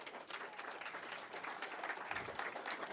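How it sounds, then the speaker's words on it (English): A school board meeting audience applauds History Day teachers, a steady spread of clapping from a roomful of people lasting the full three seconds at moderate level. "I would like you to come up and get your round of applause"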